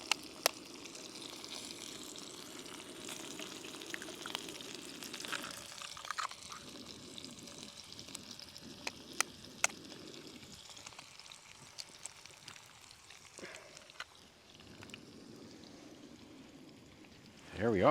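Two fresh brown eggs fry in a pan outdoors, giving a steady soft sizzle with faint liquid crackle throughout, while occasional clicks and small knocks sound over it and a voice talks quietly nearby.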